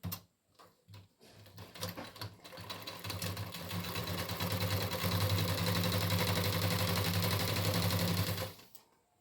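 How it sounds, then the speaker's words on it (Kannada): A sewing machine stitches a pocket onto ladies' Patiala pants, running in a steady, loud, continuous whir for several seconds after a few short starting bursts, then stopping abruptly. No one speaks. "ಈಗ ಈ ರೀತಿ ಇಟ್ಕೊಂಡು ಒಂದು ಹೊಲಿಗೆ ಹಾಕ್ತಾರೆ ಆ ಕಡೆ ಈ ಕಡೆ ಎರಡು ಕಡೆನೂ"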